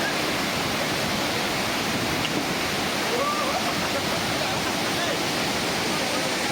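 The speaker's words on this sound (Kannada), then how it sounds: "ಫಾಲ್ಸ್ ಅಂತ ಸೂಪರ್ ಪ್ಲೇಸ್ ಇದೆ" Iruppu Falls in Nagarahole Tiger Reserve roaring in a dense, constant wash of falling water, loud and unbroken for the whole stretch.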